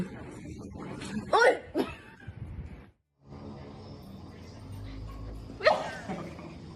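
A dog makes short yips and whimpering vocal bursts, close by, separated by a brief silence, with some rustling noise in between.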